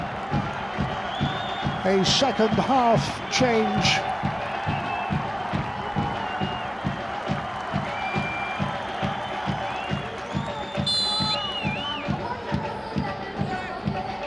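A football stadium crowd at an Asian Champions League match between Navbahor and Mumbai City FC applauds a player, a broad sustained roar and clapping wash beneath a commentator talking throughout.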